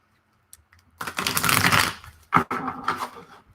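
A tarot deck is shuffled by hand, a dense riffling flutter of cards lasting about a second, followed by a sharp slap and a few more quick card rustles, close and fairly loud with no talking.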